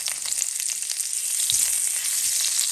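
Scallion and ginger sizzle in hot oil in a wok, a steady bright crackling hiss with a few soft low thumps from the pan, close and continuous with no talk.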